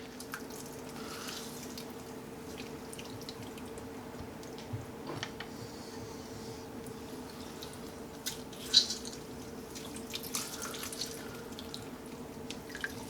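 A tap runs at a kitchen sink, filling with hot water for a turkey brine: a faint, steady trickle under a low hum, with occasional soft clinks and drips.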